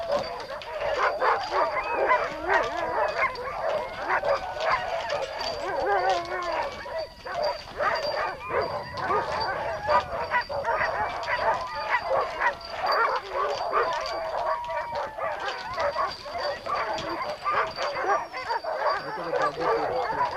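A pack of sled dogs on Punchbowl Glacier near Girdwood, Alaska, barks, yips and whines nonstop close by, an eager, overlapping chorus with people talking through it.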